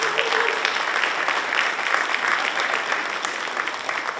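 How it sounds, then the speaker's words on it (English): Audience applause for school committee candidates at a candidate forum sponsored by a teachers' union, a full, continuous crowd clapping, loud and sustained for the whole stretch, with faint voices mixed underneath. "Let's have another round of applause for our candidates for doing a great job tonight."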